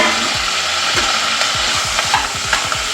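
Dry Byadgi red chillies and curry leaves fry in hot oil, a loud dense sizzle broken by rapid repeated scraping strokes of stirring, close and without talk.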